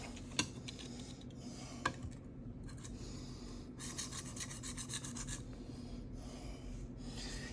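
Knife blade scraped on a Shapton Rockstar 500 sharpening stone, close gritty rasping strokes in uneven bursts with a couple of sharp clicks, quiet and without talk.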